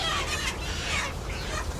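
Chickens clucking and squawking close by during a vaccination session, a busy flurry of overlapping bird calls over a low rumbling background.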